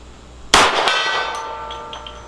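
A .38 Special wadcutter bullet from a Smith & Wesson 52-2 pistol strikes a steel gong at a shooting range: a sharp metallic clang rings out once, loud and close, then fades slowly, followed by a couple of fainter pings.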